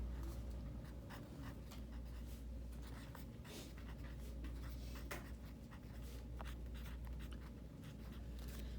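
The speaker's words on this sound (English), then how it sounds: "I'm going to write these down." Pen or pencil scratching steadily as rows of Pascal's triangle are written out, with continuous close strokes and brief taps over a constant low hum, no talking.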